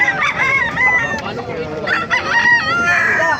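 Several gamefowl roosters, including Lemon and Gilmore hatch birds, crow repeatedly and overlap in a noisy yard. The crows are loud and close, with a few clucks mixed in.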